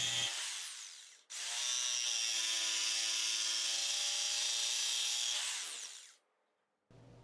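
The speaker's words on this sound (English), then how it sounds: "then connecting them using my jigsaw" Power jigsaw cutting plywood, a short buzzing burst, then a steady high whine lasting several seconds before the motor winds down, loud and close with no talking.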